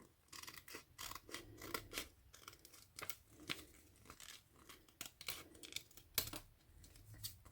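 Scissors snip through folded paper while a zine is being cut, a quick irregular run of crisp cuts and rustles, close and moderately quiet, with no talking.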